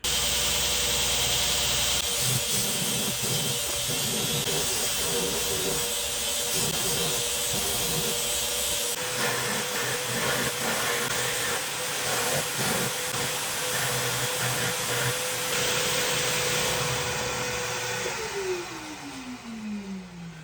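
A belt grinder runs continuously as a mosaic canister Damascus steel knife blade is ground down to thickness, a loud sustained whirring rasp with shifting pressure and a pitch change near the end as the belt spins down.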